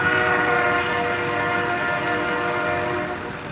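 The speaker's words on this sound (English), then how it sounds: "right when I start live feed, there's a train" A train roars close by with a loud, sustained horn blaring over the rumble of the cars, steady throughout.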